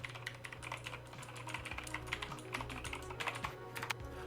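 A Razer keyboard clacks under quick, uneven typing, crisp close-up key strikes with a faint low hum underneath and no voices.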